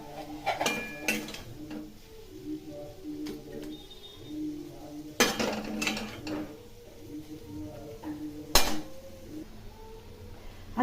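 Pots, pans and cooking utensils clatter and clink as cooked mixed-vegetable chorchori is taken off the stove, with several sharp metallic knocks and scrapes in an irregular rhythm, close and fairly clear with no talk.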